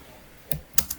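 Three crisp keystrokes tap on a computer keyboard while a firewall command is entered on an Ubuntu server, close and quiet with the last two in quick succession; no one speaks.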